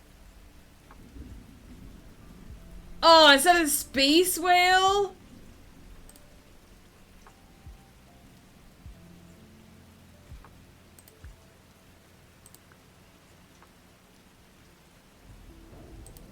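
Thunder rumbles and steady rain hiss low beneath a fantasy world-building game in Ghost Path, broken midway by a loud, wavering whale-like call while a person speaks briefly.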